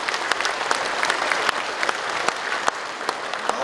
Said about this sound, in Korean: 큰 환영의 박수를 서로에게 보내주시면 좋겠습니다.